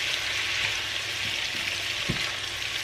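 Snow peas stir-frying in a hot pan with tofu and vegetables, giving a steady loud sizzle with a few faint clinks of stirring and no voices.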